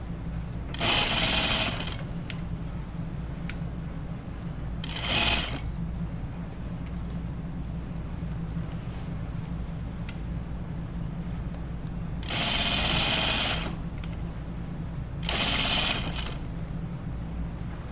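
A sewing machine stitches a garment in four short, loud whirring bursts between stretches of low background hum.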